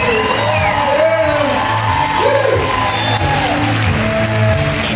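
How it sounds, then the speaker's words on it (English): A crowd applauds and cheers for champion athletes at a health products event, sustained clapping and whoops under a loud voice and background music throughout. "One last round of applause for our champions."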